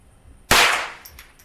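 A single sharp gunshot from a Marlin Papoose .22 rifle, loud and close with a decaying ring, followed by fainter echoes from the surroundings.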